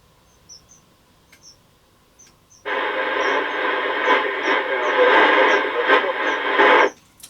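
A Fidelity CB1000FM UK CB27/81 mobile CB radio receiving a distant transmission: faint clicks and quiet background, then several seconds of loud, hissy, static-laden reception with a garbled voice buried in the noise, cutting off abruptly.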